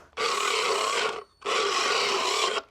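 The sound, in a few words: rasp filing a horse's teeth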